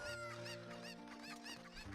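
A Cuckoo chicken from Zelda Ocarina of Time 3D clucks in quick repeated bursts over steady game music, close and clear.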